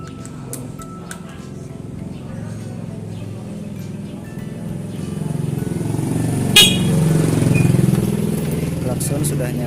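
A Honda Beat carburetor motorcycle horn honks briefly over a steady engine idle and background noise, one short toot standing out near the end.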